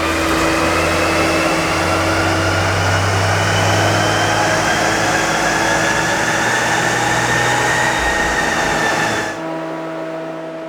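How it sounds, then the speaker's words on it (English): A stock car on Blizzak winter tires runs a loud, sustained dyno pull, its engine droning and rising steadily in pitch for about nine seconds before abruptly dropping off to a lower hum. "not great on the stock pull here. The Blizzaks are not liking the dyno right now."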